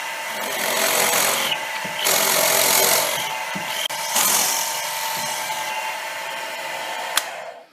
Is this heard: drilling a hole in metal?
yes